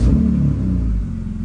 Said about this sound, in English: So now let's go ahead and turn the car on.